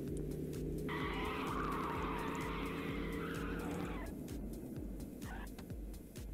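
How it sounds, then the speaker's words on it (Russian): A car engine revs up in the City Car Driving game during a driving-school exam, a steady droning tone rising in pitch with a tire screech over it for a few seconds before easing off. "Набираем обороты."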